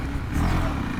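Husqvarna Svartpilen 701, a big single-cylinder motorcycle, accelerating away, a brief rough engine rumble heard alone at moderate level.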